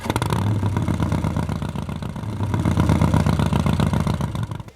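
Harley-Davidson motorcycle engine fitted with an aftermarket exhaust, a loud, steady, throaty rumble with a pulsing low beat that holds for the whole stretch, with no voices.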